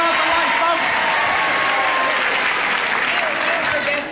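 A game show studio audience on Match Game applauds steadily, a loud continuous patter of many hands sustained for several seconds before tapering off at the end.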